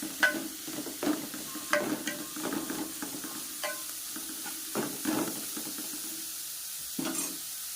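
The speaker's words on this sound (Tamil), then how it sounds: "இதுக்கு வந்து வெங்காயம் பொன்னிறமாலாம் வதங்க தேவையில்லை. ஓரளவுக்கு லைட்டாக வதங்கினா தான் அந்த வெங்காயோட டேஸ்ட்டு வேறு லெவலில் இருக்கும்." Onions frying lightly in a pan for a dried sala fish stir-fry, a spoon scraping and stirring in uneven bursts over a soft sizzle, close by with no speech.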